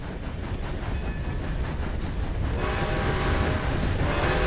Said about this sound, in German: Hallo Zug!